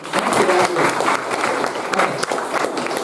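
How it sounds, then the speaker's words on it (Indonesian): Students in a high school class clapping together, a loud, close round of applause filling the room, with some voices mixed in and the clapping easing slightly toward the end. "tepuk tangan dulu"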